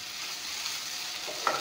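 Dried okra frying in a pan gives off a steady, hissing sizzle, close and fairly quiet, with a faint scrape or clink just before the end and no voices.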